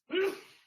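One short, faint sneeze bursts out during a school district study session, quick to rise and trailing off within a second.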